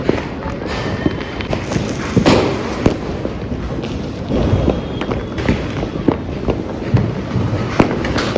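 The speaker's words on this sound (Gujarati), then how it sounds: "ચારે બાજુ ફટાકડા ફટાકડા ને ફટાકડા જો ભાઈ" Diwali firecrackers and fireworks in Surat keep popping and cracking all around: a dense, loud run of bangs at irregular moments over a constant outdoor rumble.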